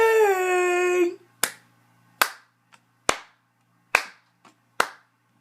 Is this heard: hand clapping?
yes